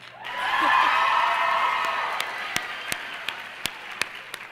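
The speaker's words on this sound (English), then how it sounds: "Let's hear some more cheers" Audience at a Junior Miss pageant night cheering and applauding, a swell of whoops and dense clapping that builds and then thins out into a few scattered, distinct claps.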